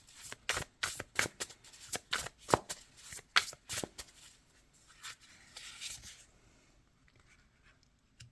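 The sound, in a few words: tarot cards being shuffled and drawn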